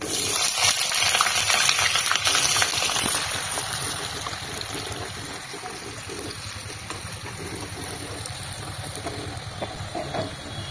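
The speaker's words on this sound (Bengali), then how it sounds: "ফোড়নগুলো ভাজা হয়ে গেলে কুচনো পেঁয়াজ অ্যাড করে দেব।" Chopped onion hitting hot oil with whole spices in a pan, a loud sizzle at first that settles into a steady, softer frying hiss.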